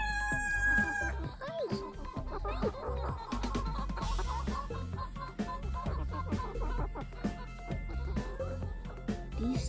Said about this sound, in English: These chickens are doing absolutely fine.